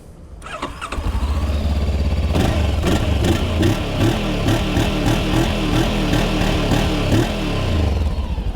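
A Voge 525 DSX motorcycle engine cranks with a short starter whir, catches and settles into a steady, loud, close idle with an even throbbing pulse that runs to the end.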